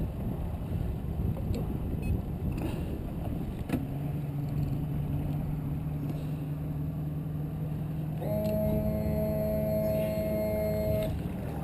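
A 2015 boat with a 150 horsepower outboard drones steadily on the water, a low engine tone that rises in pitch and loudness partway through as the throttle opens, with wind buffeting the microphone.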